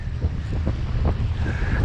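Strong wind roars steadily across a fishing boat on the water, with waves and rushing gusts buffeting the microphone throughout and no talk.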